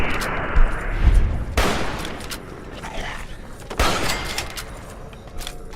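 Gunfire in the Fallout 3 video game: loud, sharp shots in ragged bursts, a heavy volley near the start and another cluster later, each followed by fading reverberant tails.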